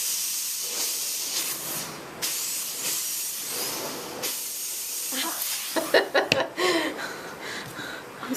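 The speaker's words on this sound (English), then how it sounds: "And I will just keep steaming." A steamer hisses loudly and continuously while softening the filler spline of a caned chair. The hiss pauses briefly a few times, and faint scrapes and light knocks near the end come from working the spline.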